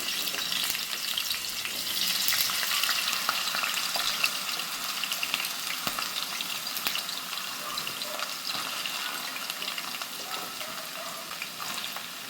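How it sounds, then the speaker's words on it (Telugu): Potato pieces fry steadily in hot oil, a dense close-up sizzle with bubbling crackle that holds for several seconds, occasionally stirred, with no voices. "మనం కట్ చేసుకున్న బంగాళదుంప ముక్కలు కూడా వేసేసుకుందాం"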